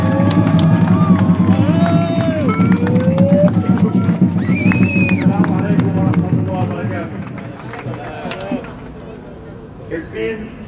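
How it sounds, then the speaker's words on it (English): Crowd at an outdoor political rally in Melbourne cheering, whooping and clapping, loud and sustained at first before thinning out toward the end, with voices mixed through the noise. "A big round of applause."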